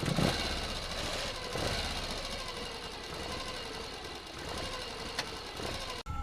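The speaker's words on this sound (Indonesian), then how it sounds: "motor itu selalu pulang kembali ke kediaman orang tua Arif dengan klakson yang terus berbunyi dan mesin yang masih menyala" A motorcycle engine runs steadily and close by, a dense, continuous mechanical chatter that holds the same level throughout with no voices over it.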